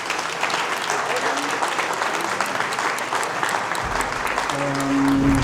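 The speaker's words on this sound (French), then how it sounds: "j'aimerais, s'il vous plaît, qu'on les applaudisse quelques instants pour le travail accompli." An audience at an event applauds steadily for several seconds, a dense, even wash of clapping with some voices underneath.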